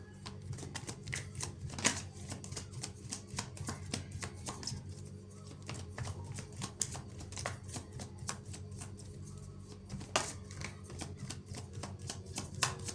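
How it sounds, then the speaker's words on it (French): Tarot cards are shuffled and drawn by hand in a series of quick, crisp riffling and slapping bursts. The sounds come close and fairly quiet, and no one speaks. "Je pourrais m'arrêter à cette carte-là, mais on va tirer une autre carte"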